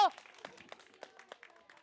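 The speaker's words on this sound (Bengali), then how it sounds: "জোরে হাততালি হয়ে যাবে, জোরে হাততালি হবে" Scattered, fairly faint audience clapping at a women's balancing game contest, coming in irregular bursts after a brief tone at the start.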